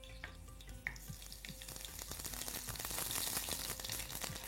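Whole cumin and dried red chillies fry in hot oil for Bengali doi bora, giving a steady crackling sizzle that grows louder and denser, with no voices.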